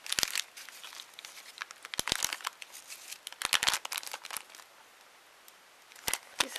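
A well-wrapped gift parcel being unwrapped: close, bursty crinkling and tearing of paper and plastic wrapping in irregular clusters, with quieter pauses between.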